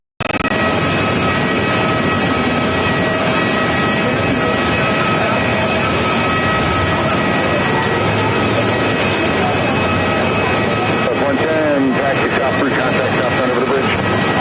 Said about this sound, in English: We do have the Alaska in the One World livery, 737.